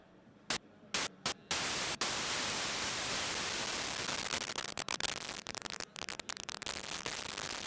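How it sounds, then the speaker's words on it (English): A Dreadbox Eurorack scatter module chops white noise into a few short irregular bursts, then lets it hiss almost steadily with brief random dropouts flickering through it, loud and alone. "It's like random on-off for the white noise."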